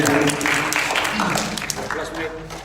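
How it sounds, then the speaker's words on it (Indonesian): Crowd applause at a church gathering, a dense wash of many hands clapping, steady and loud, with voices mixed in underneath. "Dengan tepuk tangan dulu saudara."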